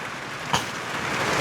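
Storm rain pouring down at a house, a dense, continuous hiss of drops on surfaces, with one brief sharper knock partway through and the downpour swelling slightly toward the end.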